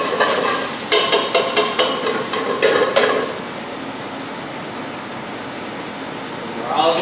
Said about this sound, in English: we're gonna throw some onions in here. About half an onion. Get that stirred up a little bit.